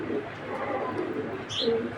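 A female grizzle pigeon with pearl eyes cooing, low soft coos murmuring steadily at close range, a brief higher chirp near the end, no speech.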